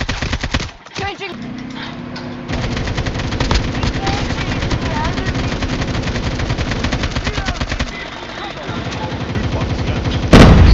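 Rapid bursts of QXR gunfire in Call of Duty Mobile, dense and loud automatic fire that keeps going with brief pauses, alongside in-game voices and other battle noise.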